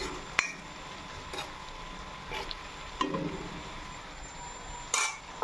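Pumpkin and duck curry with salt and turmeric being stirred in a pan: a spoon clinks and scrapes against the metal a few times, sparse and moderately close, over a faint steady background hum.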